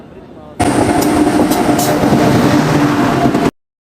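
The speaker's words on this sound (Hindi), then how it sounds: "सो इधर अपनी ट्रेन आ चुकी है।" The Gujarat Sampark Kranti express pulls into a station, a loud sustained rumble and roar that starts abruptly and then cuts off, with some clanking over it.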